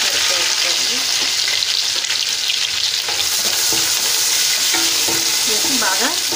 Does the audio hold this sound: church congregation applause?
no